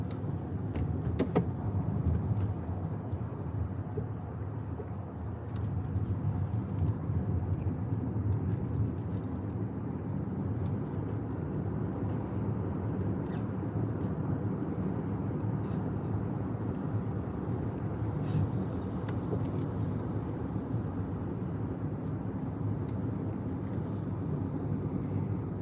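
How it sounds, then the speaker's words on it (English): Morning road traffic passes in a continuous broad rumble, a steady wash of car noise with occasional faint clicks, no talk. "A lot more traffic this morning than the last 2 mornings."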